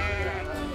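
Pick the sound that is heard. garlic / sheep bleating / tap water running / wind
sheep bleating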